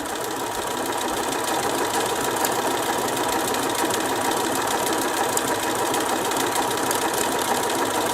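Close, continuous whirring of a sewing machine as it stitches in a circle around the inner edge of a fabric coaster, a steady, unbroken drone throughout.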